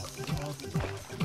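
Liquid pours and trickles in a video game in a few short bursts, close and moderately loud over a low background hum.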